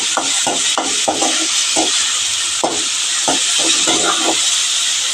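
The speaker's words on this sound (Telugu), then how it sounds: "ఆనియన్ కొంచెం దూరగా ఫ్రై కావాలి." Onions fry in a pan, producing a loud, steady hiss. Intermittent scraping and stirring knocks sound close by.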